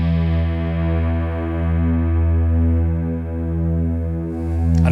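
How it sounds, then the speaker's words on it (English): A guitar-driven hybrid synth held by a hold effect, giving an endless sustained pad that drones loud and steady with slow swelling pulses and no break. "Right at the end, we're using the hold effect to give us like an infinite synth pad"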